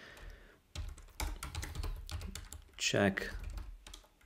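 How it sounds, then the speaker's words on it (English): Computer keyboard typing while a presentation is edited in Microsoft Teams, a run of quick close key clicks with a single spoken word heard over it. "So then I can type something here"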